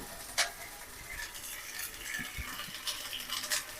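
Spices with fried onion and green chillies are stirred in a pan with a little water, giving faint, close scraping strokes and soft sizzling, with occasional sharp clicks of the spoon against the pan.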